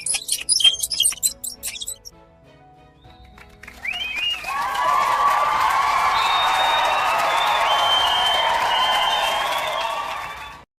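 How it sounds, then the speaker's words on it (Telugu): Cartoon animals clap and cheer together in a sustained burst of applause with high squeaky cries, following brief chirping sounds at the start. "అన్ని జంతువులు చప్పట్లతో చెప్పారు"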